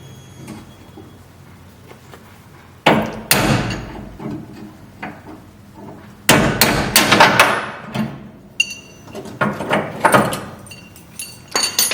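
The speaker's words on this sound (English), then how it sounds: "So I can knock that pin loose." Sharp metal-on-metal hammer blows drive a punch against a suspension pin on a 1968 Ford Mustang, coming in loud irregular bursts of strikes with quieter pauses between, close up in a garage setting.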